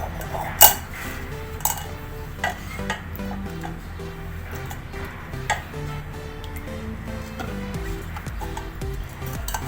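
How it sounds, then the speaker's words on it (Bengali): Boiled tomatoes pressed through a metal strainer with a spoon, giving soft repeated scraping and ticking clinks of utensil against mesh and pot, with one sharper knock near the start. "চামচের সাহায্যে এইভাবে চেপে চেপে টমেটোগুলো সব ছেঁকে নিতে হবে।"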